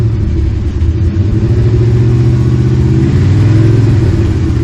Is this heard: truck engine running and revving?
yes